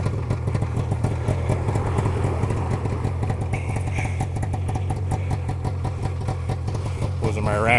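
A 1995 Arctic Cat Panther Deluxe snowmobile with a 440 two-stroke twin engine idles close by on an ice-fishing outing, a steady rattling low drone running throughout while someone talks over it.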